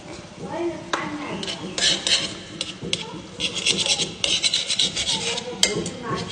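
Chow mein being stirred in a pan with a cooking utensil, giving repeated scraping and rasping strokes in uneven bursts, with occasional speech alongside.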